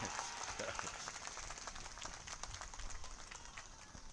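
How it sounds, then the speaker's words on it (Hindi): At a political rally in Buxar, a large crowd claps together in a dense, continuous patter of applause heard from a distance. "तो बजा दा जाए एक बार ताली झंझना के"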